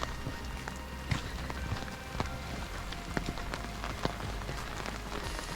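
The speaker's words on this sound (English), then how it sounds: "The rain is not helping the view" Rain patters steadily at Diamond Point Overlook in New River Gorge, a dense outdoor hiss scattered with sharper nearby drops landing on surfaces.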